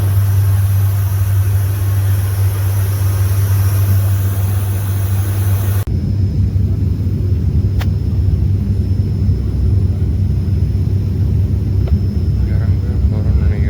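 Steady cabin drone aboard a short commercial flight from Salem to Bangalore, a loud continuous engine rumble and airflow hiss that shifts in tone partway through and then holds, with faint clicks over it.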